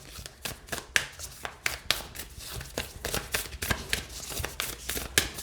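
Star Temple oracle cards being shuffled by hand, a close series of crisp riffling and slapping bursts in an irregular rhythm, fairly near and clear with no talk over them.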